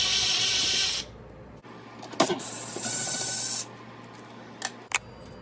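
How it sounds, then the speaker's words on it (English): Ratchet wrench loosening the bottom screws of an Aga oven burner assembly, heard as short bursts of fast mechanical clicking with a few sharp taps between them, close and fairly loud. "now you can completely remove the bottom screws"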